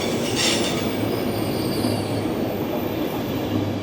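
A Eurocity train with sleeper and couchette cars passes close by, a loud steady rumble of wheels on rail with a brief high squeal near the start.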